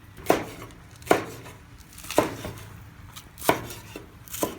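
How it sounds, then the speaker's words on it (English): Onions being chopped with a knife on a cutting board at home, five sharp distinct knocks in a slow, evenly spaced rhythm, close and clear with no talking. "Let's start by chopping the onions."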